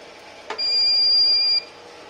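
A Havells smart RO water purifier gives one sustained high-pitched electronic beep lasting about a second, preceded by a short click, over a faint room hum.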